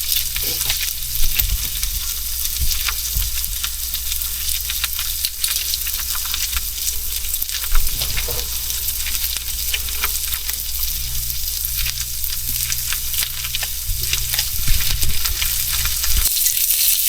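Food frying on a flat top griddle, a loud, steady sizzle that runs the whole time with occasional scraping and stirring knocks on top.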